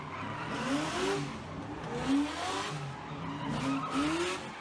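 Cars drift with squealing, skidding tires at a downtown Seattle street takeover on a Saturday night, repeated rising tire screeches over a steady engine roar heard from a moderate distance.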